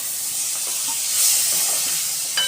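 Chopped tomato goes into a hot pan with turmeric and salt while cooking sev tameta, and a steady, soft sizzling hiss carries on throughout with faint stirring and no voices.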